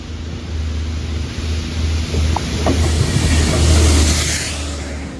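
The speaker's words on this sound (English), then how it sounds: "I can hear the locomotive, but I can't see it" A locomotive rumbles past on a railway line in the West Midlands, a loud, close, steady low roar with engine drone that swells toward the end, with no voices.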